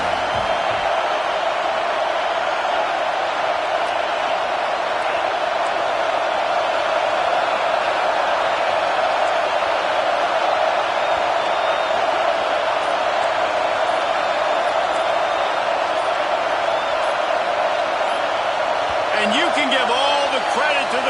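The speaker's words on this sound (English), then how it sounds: "The roar of the crowd trying to fuel this defense to keep them pinned in their own end" A stadium crowd at a Clemson college football game roars continuously, a thick, sustained wash of noise with a commentator talking over it throughout.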